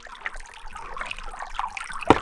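A small garden fountain in a Joshua Tree Mojave desert garden, its water recirculated by a pump box under the tray, gives a faint, steady trickle and light splashing, with one sharper drip near the end and no talking.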